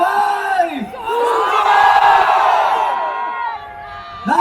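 A large crowd at a protest rally at Liwasang Bonifacio shouts together in one loud, sustained roar of voices for about three seconds, rising after a single amplified voice and fading before another shout begins.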